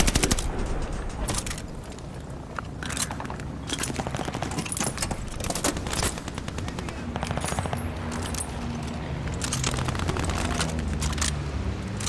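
Rapid automatic turret fire in Call of Duty: Vanguard, with dense, continuous bursts of gunfire rattling over the battlefield for the whole stretch and no pauses in the shooting.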